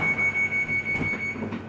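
A Northern train on a London rail line rolls along with a steady low rumble and rhythmic clatter, a thin high whine running through it and a brief squeal near the end, with no voices.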